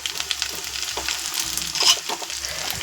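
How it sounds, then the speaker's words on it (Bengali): Potatoes about two-thirds fried in a pan, with chopped carrots added and stirred in, give a steady moderate sizzle and frying crackle with soft scraping and stirring sounds throughout. "আলু মোটামুটি ভাজা হয়েছে সিক্সটি সেভেন্টি পার্সেন্ট ভাজা হয়েছে এই পর্যায়ে আমি দিয়ে দেবো গাজর আর"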